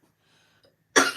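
A single sharp cough bursts out close to the microphone after near silence, a loud, rough expulsion of breath at the very end.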